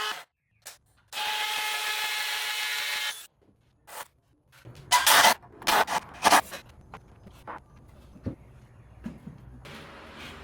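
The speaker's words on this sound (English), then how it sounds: "I'm going to screw this in here real quick and get done with it" A power drill whirs in a steady burst for about two seconds, then a screw is driven into wood in several short, loud, choppy bursts, close by in a garage.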